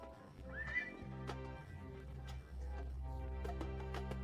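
A horse whinnies with a high rising neigh, followed by steady clip-clop of hooves and further snorting, in a clean sound-effect style.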